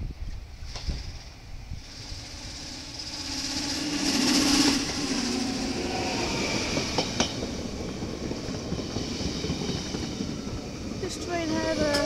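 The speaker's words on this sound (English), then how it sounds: "Okay, here is an incoming train at station Bovkos per Grotebroek." A VIRM-4 double-deck passenger train rolls into a railway station, a steady loud rumble of wheels and rails with brief clanks and a rising hiss as it passes close, continuing throughout.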